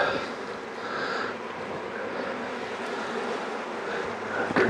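Honey bees buzz steadily around an open hive during an inspection, a close, continuous hum with faint rustling and no talk.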